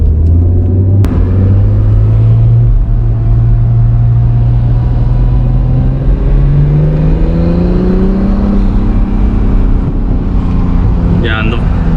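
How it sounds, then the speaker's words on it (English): A 2019 Acura NSX in manual track mode, its exhaust droning loudly and rising steadily in pitch as the engine revs, heard from inside the cabin as a continuous close rumble. "I cannot get enough of the exhaust note, especially when this thing is in track"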